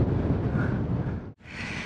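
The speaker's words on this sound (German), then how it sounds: "Jetzt haben wir gerade noch mal richtig Wind gehabt." Wind buffeting a microphone during a bike climb up Mont Ventoux, a loud, close, low roaring rush that drops out briefly for a moment and then returns.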